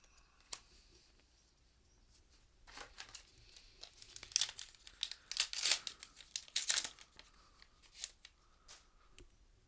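Paper trading card packs are torn open and handled, giving sharp crinkling, crumpling and ripping bursts that grow busier and louder in the middle, then ease into lighter rustles.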